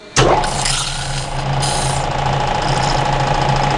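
A metal lathe turns at 250 rpm with emulsion coolant, cutting blind, giving a loud, steady grinding drone with a low hum that starts abruptly and holds constant, close up.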